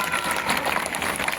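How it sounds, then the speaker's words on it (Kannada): Brief burst of applause from an audience at a social welfare department drama event, dense steady clapping throughout. "ಒಂದು ಜೋರಾದ ಚಪ್ಪಾಳೆ ಬರಲಿ"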